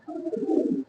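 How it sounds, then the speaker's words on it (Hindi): Close up at a pigeon market in Hyderabad, a single pigeon lets out a soft, low, rolling coo lasting under a second. "ये कबूतर है, देखिए 2500 रुपए का गोल्डन कबूतर है।"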